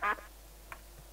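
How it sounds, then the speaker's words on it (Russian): A duck in the Minecraft video game gives a loud, near quack at the start, followed by a fainter second quack, with quiet background otherwise. "Я вам говорила, что тут утка!"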